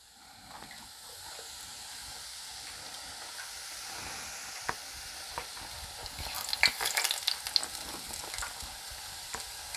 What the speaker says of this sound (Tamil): எண்ணெயில் போட்டு நல்லா சத்தம் அடங்கினதும் நம்ம பூந்தி எடுத்துடலாம்